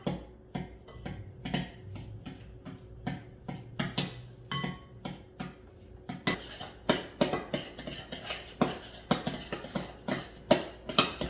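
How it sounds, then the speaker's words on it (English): A spoon clinks and scrapes against a bowl while cookie cake ingredients are mixed into a paste, soft and intermittent at first, then quicker, sharper taps in a steady rhythm. "now you're gonna mix them all together so they make a paste"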